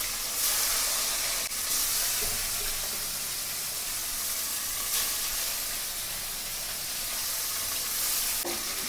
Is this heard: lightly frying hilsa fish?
yes